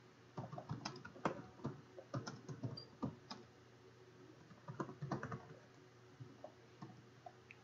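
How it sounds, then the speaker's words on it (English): Someone types on a computer keyboard while setting up code in an editor, with bursts of quick, close key clicks and taps separated by short pauses. "Let's type something."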